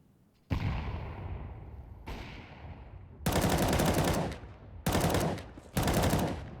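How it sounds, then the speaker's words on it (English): Gunfire in a competitive video game match: a few single echoing shots, then sustained bursts of rapid automatic fire at moderate volume, with no talk in between. "A couple of open shots whizzing past him."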